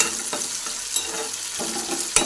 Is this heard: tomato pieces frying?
yes